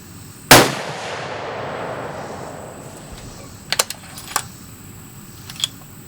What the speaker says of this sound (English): Let's shoot one more for a velocity reading, and I'll go ahead and shoot it in that same group.